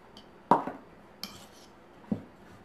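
A utensil mashes brown sugar and cinnamon crumb topping in a bowl, giving three separate sharp knocks and scrapes against the dish with quiet pauses between them.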